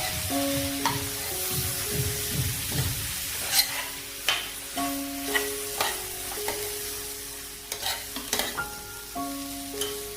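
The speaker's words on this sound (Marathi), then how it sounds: "मिक्स करून घ्यायचं फोडी मसाल्यांमध्ये" Eggplant pieces stirred into spice masala for a dry dal-vangi dish, with a spoon scraping and knocking against the pan in irregular strokes over a low sizzle from the frying masala.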